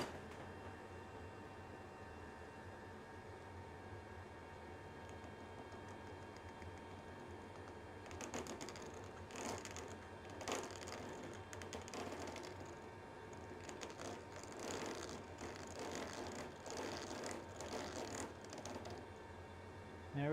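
A hand chamfer tool deburrs the end of watercooling tubing, making faint, quick scraping and clicking bursts in short clusters over a quiet background hum.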